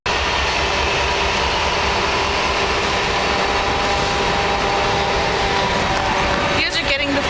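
A train passing, a loud continuous rumbling roar of wheels and cars that holds steady throughout and shifts slightly near the end.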